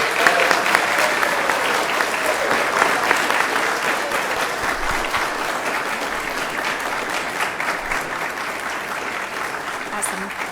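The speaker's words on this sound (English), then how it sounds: "Let's have a huge round of applause for these three." A large audience applauds at a trails summit, a sustained, loud wash of clapping that tapers slightly toward the end.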